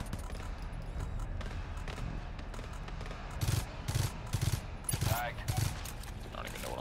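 Automated sentry turrets firing in the co-op shooter GTFO, a run of sharp repeated bursts in the second half over steady game noise, with a voice talking now and then.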